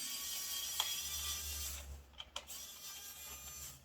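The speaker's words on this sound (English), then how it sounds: "I let the screwdriver do the rest" A Xiaomi Wowstick electric screwdriver whirs steadily close by as it backs out a screw, a thin motor hum with a small click early on and a few clicks and taps as it stops.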